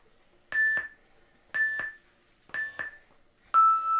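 A timer beeps four times in an even rhythm, each a short, bright electronic chirp about a second apart. The last beep is lower and louder, all close and clear with no talking.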